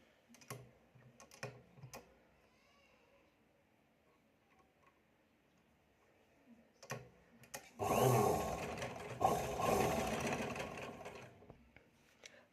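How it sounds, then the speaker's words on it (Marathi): A sewing machine stitches along a garment neckline: a few short bursts of ticking first, then a louder run of rapid, continuous stitching near the end, close by. "आता टाकायची आहे आपल्याला गळ्यावर टिपा"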